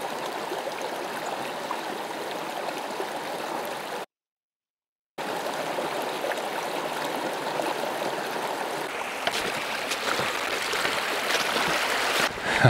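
Rushing flow of the Colorado River deep in the Grand Canyon, a steady broad wash of moving water heard up close, with a brief gap of silence partway through and slightly rougher churning toward the end.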